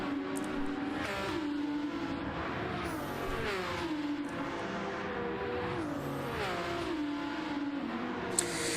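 In a racing video game, race cars including a Ferrari scream down the straight at Bathurst, their engines whining and rising through the gears one after another, with whooshes as they pass.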